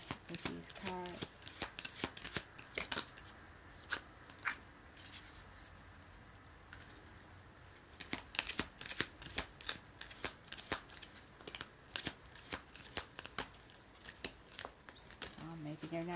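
A new deck of playing cards being shuffled in repeated bursts of crisp riffling and snapping, close and fairly quiet, with brief pauses between shuffles and some voice heard in the background.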